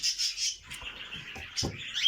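Budgerigars chirp and tweet in a breeding room, a run of bright, close calls that rise and fall over about two seconds, with a few soft rustles between the calls.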